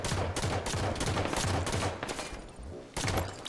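Rapid bursts of automatic gunfire in a Halo match, one dense volley after another with a brief gap before a final burst, loud and close with no talk over it.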